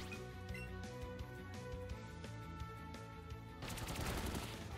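A Pin Missile attack in Pokémon Let's Go, rapid repeated game impact effects over looping battle music, ending in a louder burst of crunchy hits.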